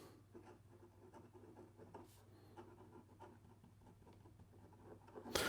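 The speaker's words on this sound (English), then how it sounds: "It gets the job done there in regard to some fast writing." Leonardo Momento Zero fountain pen with a medium nib writing fast on paper, a faint continuous scratchy rustle of rapid strokes, close up, ending in a brief louder scrape.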